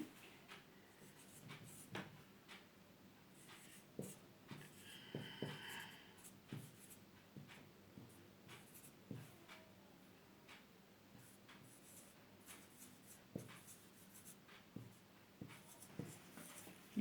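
Chalk taps and scrapes across a classroom blackboard in short irregular strokes, fairly faint against a quiet room, with occasional sharper knocks.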